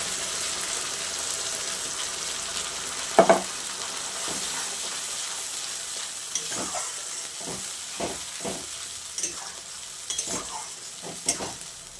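Spice paste for chicken curry fries in a pan with a steady close sizzle and hiss, broken by repeated scraping stirs of a spoon against the pan.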